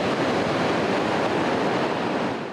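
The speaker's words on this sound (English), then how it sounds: "The sound of crashing waves and children playing along the Tijuana coastline looks like a normal day at the beach" Ocean waves crash steadily onto the Tijuana beach beside the U.S.-Mexico border wall, making a continuous, loud, broadband roar of surf with no talk.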